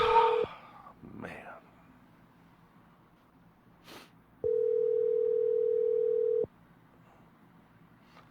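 A phone call to a friend rings out: two long, steady electronic ring tones with a quiet gap between them, and soft breathing and small mouth sounds close by in the pauses.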